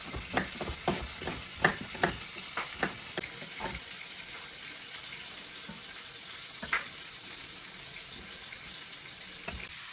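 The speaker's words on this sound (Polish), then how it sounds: "Cebulę kroję w piórka." A knife slices an onion into thin strips on a board, with a quick run of sharp, rhythmic cuts over the first few seconds, then a single isolated tap against quiet background hiss.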